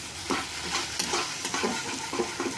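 Potato and cauliflower masala is stir-fried in a pan, producing a continuous sizzle with repeated scraping strokes of a spatula close by.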